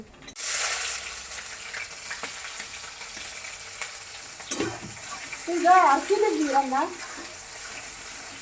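Food frying on a home stove in a Bengali household, a steady broadband sizzle filling the whole stretch, with a voice talking over it near the end.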